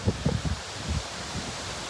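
Hurricane Ian wind gusts push through trees with a soft, rushing rustle of leaves, swelling and easing in low rumbling bursts against the breezy microphone, in Charleston.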